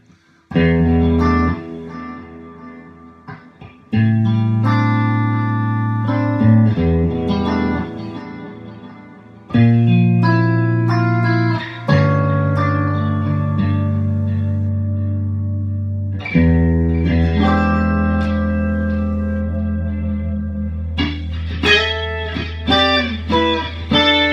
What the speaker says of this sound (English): When you have the reverb and delay going